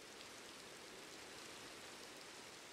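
Steady rain falls in Minecraft, a soft, even hiss of broadband noise with no drops standing out, faint and unbroken throughout with no voices.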